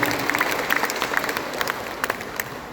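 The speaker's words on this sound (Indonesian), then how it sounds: "tepuk tangan kita semuanya" An audience at a Lamongan education office morning gathering claps together, steady and fairly close, with a dense mass of applause and scattered sharper individual claps throughout.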